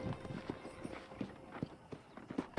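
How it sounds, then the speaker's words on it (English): Horse hooves clip-clopping at a slow walk in the Red Dead Redemption video game, a steady series of soft, fairly close thuds over low background ambience. "I picked out a fine horse for you."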